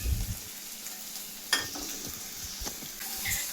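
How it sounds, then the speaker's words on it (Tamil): Quail pieces are stirred into masala in a pan, a low sizzle broken by scraping and clinking spatula strokes against the metal, with a sharp knock partway through and no talking. "மசாலாலாம் காடையில் படுற மாதிரி மிக்ஸ் பண்ணி எடுத்துக்கணும்"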